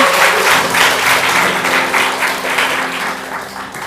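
A church congregation gives loud, sustained applause for a visiting pastor's wife at a live prayer meeting, dense clapping from a large crowd filling the room and steady throughout.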